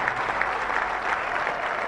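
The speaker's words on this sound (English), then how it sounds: "Let's clap for them." Crowd applause at a Zambian independence anniversary ceremony, a steady, even roar of many people clapping at moderate loudness, continuous throughout with no speech.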